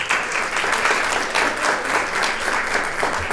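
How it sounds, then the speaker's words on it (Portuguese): A seated audience at an education and health seminar breaks into dense, steady applause, a continuous wash of many hands clapping that holds at an even level throughout. "uma salva de palmas."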